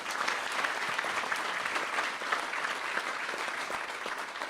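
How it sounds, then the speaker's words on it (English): Dense, sustained applause from a crowd at an outdoor groundbreaking ceremony for an aviation project, steady and moderately distant, a continuous wash of many hands clapping without pause. "Yes, you can give him another round of applause."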